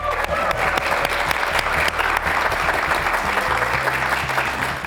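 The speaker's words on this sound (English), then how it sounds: "Let's give her a round of applause." Studio audience at a women's TV show taping breaks into sustained applause, a dense, steady wash of clapping that holds loud and even for the whole stretch.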